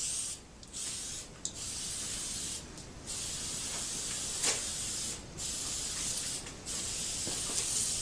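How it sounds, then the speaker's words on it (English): Spray glue hisses onto a tarp laid over cardboard in several long, steady bursts separated by short breaks, a close, continuous aerosol hiss with faint rubbing between passes. "I'm going to spray just the one side this time."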